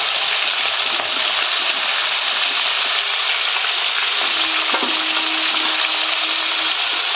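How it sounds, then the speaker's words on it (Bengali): Crab frying with onion and garlic while being stirred in a pan, a loud, constant sizzle throughout with a faint scrape partway through, no talking. "একটু ভেজে নেবো নাড়াচাড়া করে।"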